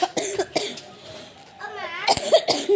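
A person coughs several times in short bursts, close by, with a few vocal sounds between the coughs.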